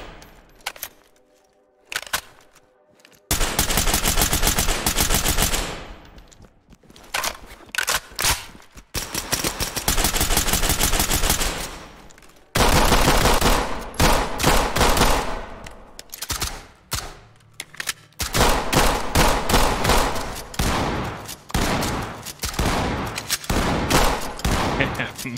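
Loud, close rifle gunfire in the tactical shooter Ready or Not, firing in dense automatic bursts and short volleys separated by brief pauses across the whole stretch.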